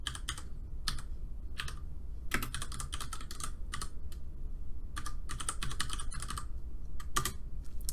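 Bursts of rapid clicky typing on a computer keyboard while entering IPv6 router configuration commands, quick clusters of keystrokes separated by short pauses, close and clear with no talking.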